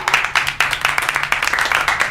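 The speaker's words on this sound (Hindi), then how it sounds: "तालियां" A short burst of clapping and applause from a crowd at a school voting-day gathering, steady rapid claps for about two seconds, fairly loud and close.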